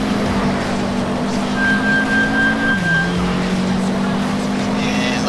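Race car engines in the Need for Speed Shift video game hold a loud, sustained drone through a lap-elimination race, with the pitch dipping as gears change and a narrator talking over the engine noise.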